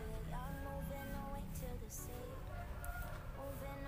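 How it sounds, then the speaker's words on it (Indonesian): Several chickens cluck and a rooster calls faintly in the background, steady behind a person talking throughout. "Ini kok suara banyak suara ayam nih, ganggu aja."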